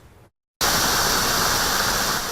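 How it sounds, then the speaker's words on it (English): Water spills steadily over the causeway of a dam built in 1912, a loud broadband rush that cuts in after a brief silence and roars on evenly, close and constant. "As water spills over the causeway, the city of Jenkins rests quietly below."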